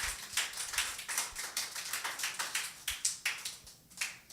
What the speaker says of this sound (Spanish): Un aplauso para nuestro Señor Jesucristo.